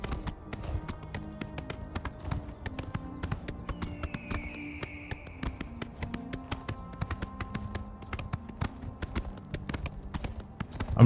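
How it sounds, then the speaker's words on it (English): Horse hooves in Oblivion Remastered beat out a quick, steady galloping rhythm of sharp clops throughout, with a faint low tone droning beneath. "I'm riding on my horse."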